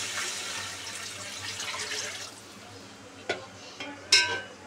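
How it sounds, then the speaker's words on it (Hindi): Water is poured into a cooking pot over sautéed ground green chili, garlic and ginger while making khichri, giving a soft continuous splashing stream that stops, followed by a few sharp clinks of a utensil against the pot. "अब इसमें हम डाल देंगे पानी।"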